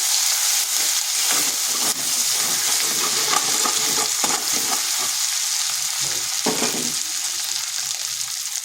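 Ginger garlic paste sizzles and spits loudly in hot oil in a pan with turmeric powder, with a steady frying hiss and scraping stirs that come and go throughout.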